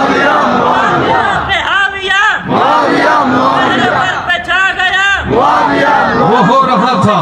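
A large crowd at a religious gathering at Darul Uloom Muhmmadia roars a chanted response to a slogan, many voices rising together in loud, sustained unison bursts with brief dips between phrases.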